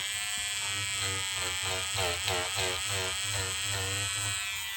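Steady electric buzz of a stitch eraser cutting through tight embroidery stitches, a continuous close motor drone with a rhythmic pulsing as it bites into the thread.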